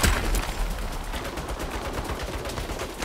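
Turret gunfire in the Saints Row reboot, loud, dense and continuous bursts of automatic fire close by, with no talk over the shots.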